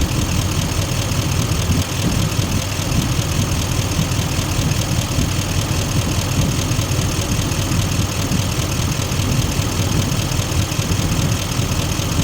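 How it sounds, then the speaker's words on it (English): Steady, loud, broadband whir of the engine cooling fan on a 2018 Chevrolet Silverado 2500HD with the L5P Duramax diesel, running continuously under an idling engine throughout, with no talking. "The fan's kicking back on"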